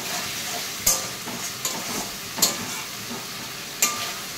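Fish cooks in thick fish curry masala with a low, steady sizzle, broken by a few sharp spatters or utensil taps at irregular intervals. No voices are present.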